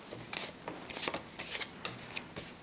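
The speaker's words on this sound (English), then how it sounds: "And we reshuffle." Cards for a Space Marine Adventures board game are shuffled close by in a quiet room, giving several short papery riffling bursts with brief gaps between them.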